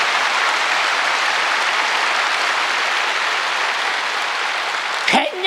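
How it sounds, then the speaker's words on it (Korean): A church congregation at a Sunday service claps together in a broad, even wash of applause lasting about five seconds, then a single voice cuts in at the end. "박수 한번 치는 건데"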